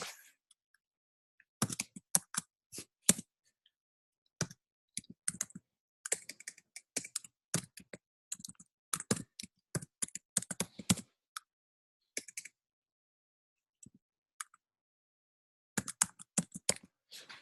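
Typing a class name on a computer keyboard, bursts of quick close key clicks separated by silent pauses, each flurry a few seconds long, with no talking.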